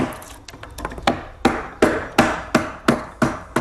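Steel chisel struck with a mallet to cut a chunk out of wood in hand wood carving: a series of sharp, evenly spaced knocks, close and loud, quickening slightly after a few softer taps.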